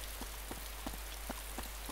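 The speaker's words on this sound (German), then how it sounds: "wenn es regnet" Rain patters steadily in the video game DayZ, a constant soft hiss with scattered heavier drops, alone without talk.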